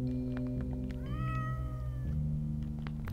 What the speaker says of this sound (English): That's a good cat.